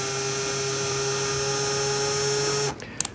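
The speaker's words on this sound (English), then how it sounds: "I know you shouldn't use a tap in a drill, but anyway, we'll run it through the hole here." A drill spins a tap through a hole in a plastic part while fitting a fuel gauge, a steady high whine that runs close and loud for nearly three seconds before stopping, followed by a couple of small clicks.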